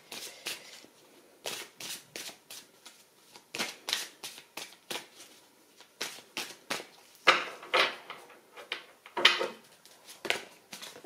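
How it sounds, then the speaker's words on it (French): Oracle cards shuffled by hand for a card reading, a close, crisp series of irregular riffling bursts and soft slaps, with no talk. "Nous allons maintenant voir le troisième tirage avec une carte de Dorine Virtue."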